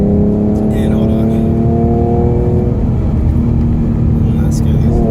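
V6 Mustang with a Borla S-type exhaust revving, a loud steady engine drone that rises and then falls back, rumbling throughout, with a person speaking over it.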